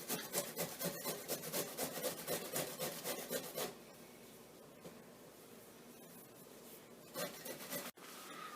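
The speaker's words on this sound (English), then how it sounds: "So we're going to get 2 cups on a box grater" Zucchini rubbed down a box grater in steady rapid strokes, a rhythmic rasping that is close and clear, then a quieter stretch of softer scraping with a brief burst near the end; no talking.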